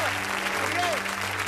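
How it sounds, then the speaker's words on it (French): Steady audience applause during a fakir performance, dense and continuous for the whole stretch, with a faint voice or whistle-like tone briefly rising above it. "Applaudissez-le s'il vous plaît, très fort."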